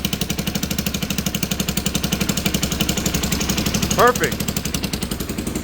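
A quad's engine idles after a carburetor fix of a stuck slide and a rejet, chugging in a steady, even rhythm close by, with one short spoken word near the end.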